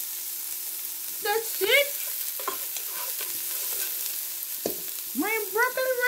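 Broccoli rabe frying in oil while being stirred, a continuous close sizzle and scraping of the utensil, with someone talking briefly over it.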